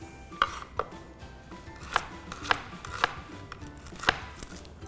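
A knife chops a garlic clove on a cutting board, seven crisp, evenly spaced knocks over a quiet background, close and distinct, with no voices.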